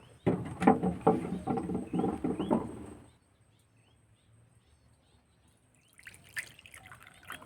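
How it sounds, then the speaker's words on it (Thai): Coriander seeds are washed in water: someone talks briefly, then after a quiet pause comes a short burst of soft splashing and dribbling water near the end. "ก็คือล้างน้ำนะครับผม ล้างน้ำสักสองครั้งนะครับ"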